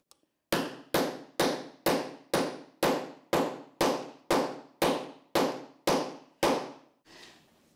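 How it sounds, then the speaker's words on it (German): A hammer strikes a button press set on a wooden board to close a fabric-covered button, twelve sharp, evenly spaced blows in quick succession, close and loud, followed by a softer final knock. "Jetzt nehme ich ein Brett unter drunter und nehme Hammer und Kopf hier ganz stark drauf."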